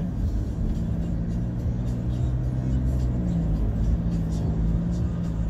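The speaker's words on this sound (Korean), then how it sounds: "차들이 갑자기 훅훅 나오네." Cars pull out onto a road during a morning commute, heard as a constant low rumble and whir of engines and tyres, with a few rising revs, steady and fairly close, with no talking.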